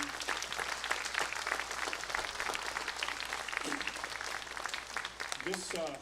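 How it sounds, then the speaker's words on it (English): Orientation audience applauding with dense, crisp clapping throughout, moderately close and fairly quiet overall, with a voice and some murmur breaking through near the end. "give a big round of applause to everybody who's pitched in"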